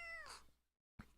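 A female cat gives a single short, quiet meow that falls in pitch, followed by a brief silence and a faint soft thump.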